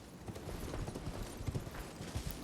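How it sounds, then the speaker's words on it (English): Faint, uneven footsteps on a cliff above in Elden Ring, East Liurnia, sounding like soft hoof-like clopping steps at a distance, low and muffled across the whole stretch with no voices. "Here's something that sounds a bit like footsteps."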